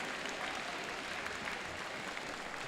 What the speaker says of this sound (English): Let's give a round of applause to our number 3 alliance.